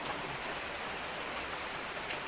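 Rain falling during Typhoon Ulysses, a dense, even hiss of drops on surfaces throughout, soft and steady with no voices.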